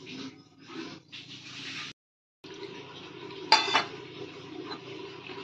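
A metal tiffin carrier is handled in a kitchen as a marinated egg goes in, giving soft metallic scrapes and clinks, a brief pause and then a sharper clank, close and quiet.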